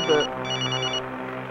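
A mobile phone rings in a room, a steady electronic ringtone pulsing in two bursts, close and clear, with a brief voice at the start.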